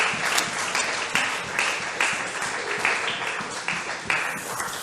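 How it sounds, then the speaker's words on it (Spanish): A congregation applauds during a sermon, steady dense clapping from a crowd filling the whole stretch, loud and close with no talk over it. "Denle un aplauso a ese Dios maravilloso."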